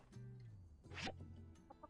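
Chickens clucking in the farming video game My Time at Sandrock, a close squawky cluck in the middle over a low steady background hum, with softer clucks trailing off at the end.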